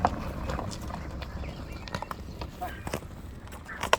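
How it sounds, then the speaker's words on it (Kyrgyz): Hooves of a seven-year-old horse clip-clop in an uneven walking rhythm close by, over a steady outdoor background with faint voices. "Ушул ат экен эми."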